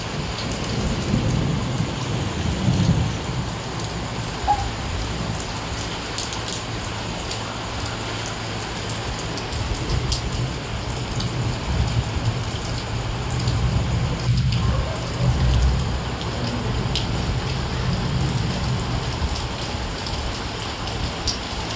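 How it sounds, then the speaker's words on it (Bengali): Heavy rain pours steadily and loud across the whole stretch, with low thunder rumbling beneath it, no voices. "মনে হচ্ছে বৃষ্টিটা আবার বাড়বে"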